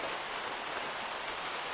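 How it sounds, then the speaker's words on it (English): Steady rain pattering down outdoors beside a koi pond, an even broadband hiss that holds constant and fairly close throughout, with no voices. "now it started raining"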